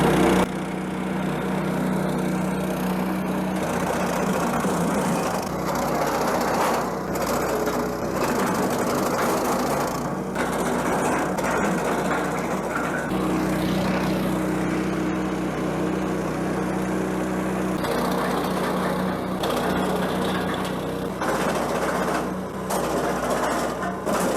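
Petrol-powered GTM LC80R wood chipper droning loudly and continuously while it shreds dry branches, its engine roar steady with irregular grinding bursts as wood is fed in, close by and with no talking.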